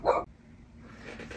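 A dog gives a single loud bark up close at the start, then the room falls quiet with only faint background noise.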